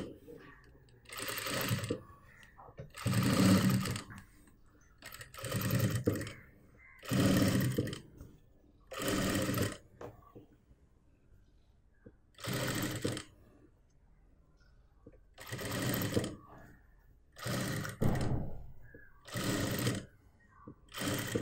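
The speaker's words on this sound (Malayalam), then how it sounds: "നമുക്ക് ഈ ഭാഗത്ത് സ്റ്റിച്ച് ചെയ്യാം." A sewing machine stitches the neck of a churidar top in repeated short runs, about nine bursts of close, steady whirring separated by quiet pauses.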